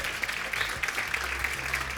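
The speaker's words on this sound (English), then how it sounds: "Some applause and a few cheers." Audience at an open mic night applauding with a few scattered cheers, a short burst of steady, moderately loud clapping.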